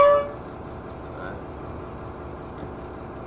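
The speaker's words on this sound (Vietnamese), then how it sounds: "cái này bật là còi hơi này" A Howo truck's air horn gives one short blast right at the start, then cuts off, leaving a low, steady cab hum.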